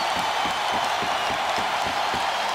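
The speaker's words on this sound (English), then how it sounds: "They've got the crowd back in this hockey game" A hockey arena crowd at a Columbus Blue Jackets versus Nashville Predators NHL game roars steadily, with a dense wash of cheering and a rhythmic pulse like chanting or clapping running underneath.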